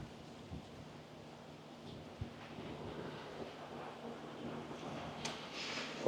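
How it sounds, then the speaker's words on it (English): Wind gusting around the corner of a beachfront resort building on Palm Beach, Aruba, a steady low rumble buffeting the microphone, with faint distant background noise and no talking. "there's always like a corner where it's extra windy."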